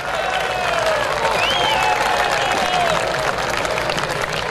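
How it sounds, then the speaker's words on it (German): Crowd applause at the Rigi-Schwinget Swiss wrestling festival, a loud, continuous wash of clapping from a large outdoor audience, with cheering voices and whistles rising through it. "Hier een applaus."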